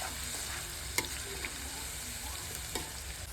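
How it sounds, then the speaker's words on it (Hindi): Onion with ginger, garlic and coriander paste sizzles in hot oil as a spoon stirs it, with steady frying hiss under a few scraping clacks of the spoon against the pan and no speech. "चम्मच की मदद से थोड़ा सा इसको मिक्स कर लेते हैं"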